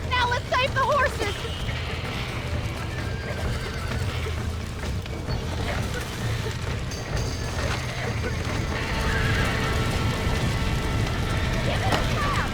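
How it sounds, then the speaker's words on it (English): Horses in the video game Red Dead Redemption whinny and neigh loudly over the steady clip-clop of galloping hooves, with busy game noise and mechanical clatter underneath throughout. "Now let's save the horses!"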